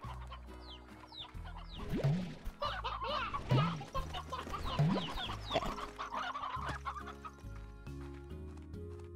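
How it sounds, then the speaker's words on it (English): Several chickens in a video game cluck in short, bouncy bursts over a soft background bed, with one brief spoken word partway through. "Got a few chickens."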